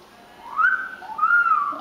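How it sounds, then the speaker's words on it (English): A double yellow-headed Amazon parrot whistles two rising-and-falling tones one after the other, clear and close, with no talk during the call. "Give me a whistle"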